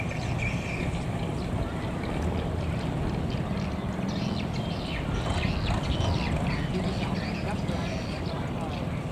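Fishing boats pass by on the sea with a continuous rumbling engine and water wash, while people talk nearby over the noise.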